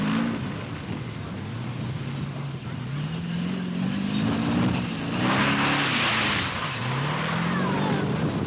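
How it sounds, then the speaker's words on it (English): A turbocharged V8 Land Rover powers through claggy soft sand at a 1985 all-wheel-drive safari event at Bovington. Its engine drones loudly and steadily, with revs repeatedly rising and falling throughout. "The turbocharged V8 was really performing and powering the vehicle through the claggy soft sand."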